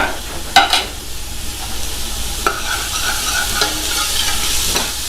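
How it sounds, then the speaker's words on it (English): Onions shallow frying in a small amount of oil, a steady bright sizzle throughout with a few sharp clinks of stirring utensils against the pan near the start and middle, no voices. "we are going to shallow fry these onions until they get light golden brown texture"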